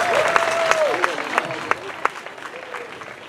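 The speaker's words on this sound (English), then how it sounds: "Give them a round of applause for trying" A crowd applauds at a live event, clapping steady under someone speaking loudly over it, with a few sharp claps standing out.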